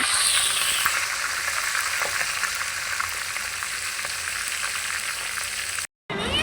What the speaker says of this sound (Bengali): আমি রোস্টটা আগে ভালো করে ভেজে নিই